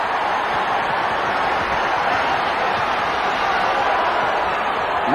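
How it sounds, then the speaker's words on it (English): A packed basketball crowd at the Forum during a 1978 Lakers–Sonics game roars in a dense, continuous wash of noise, steady and loud throughout with a commentator's voice faintly underneath. "noisiest crowd I've heard at the Forum in a long time"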